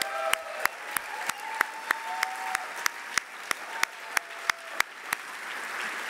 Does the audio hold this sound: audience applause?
yes